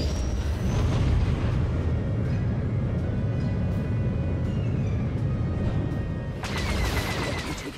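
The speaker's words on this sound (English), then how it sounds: "Missile impact." Missile impact explosions in the space combat game Galactic Starfighters, a loud, dense rumbling blast texture sustained throughout with bursts of crackling debris, sharper flare near the end.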